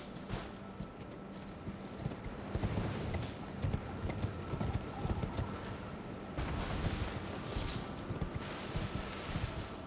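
Hooves of Torrent, the spectral horse in Elden Ring, clip-clop in a steady rhythmic gait, moderately loud and close, continuing throughout with a brief break and resuming.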